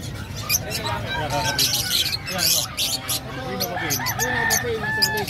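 Caged pet birds at a bird market in Bocaue, Bulacan, chirp and squawk repeatedly at close range, their busy calls overlapping while people talk nearby.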